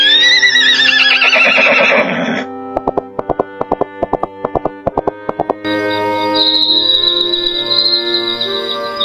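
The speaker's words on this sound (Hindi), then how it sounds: "अर्जुन, प्रिया और घोड़ा घर लौट आए।" A horse whinnies loudly and close for about two seconds. Clip-clop hoofbeats follow, then sustained musical tones.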